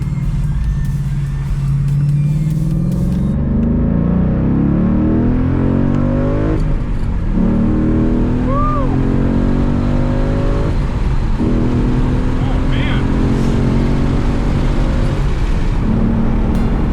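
A Mazda MX5 Miata fitted with a 5.0 Coyote V8 pulls hard and then decelerates, a deep rumbling exhaust with stepped rises and drops between gear changes and gurgling burble on decel, heard close.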